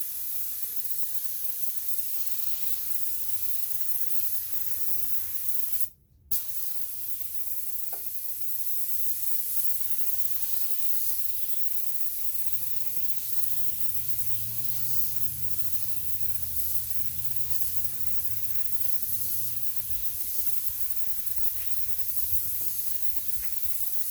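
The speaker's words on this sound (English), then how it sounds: "I'm going to spray this on and talk my way through it." A steady hiss from an air spray gun applying Ceramic Pro 9H coating to wheels runs almost continuously, close and even, with one short break where the spray stops, and a low hum underneath.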